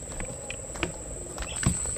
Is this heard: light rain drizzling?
yes